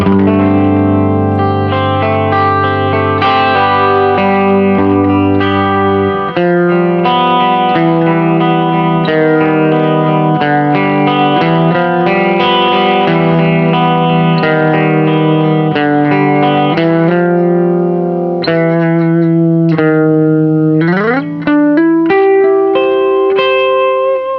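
Electric guitar on a clean tone through a Plexi amp with tremolo switched off, playing sustained chords and melodic lines with a chorus-like shimmer and some reverb, loud and continuous throughout, no talking.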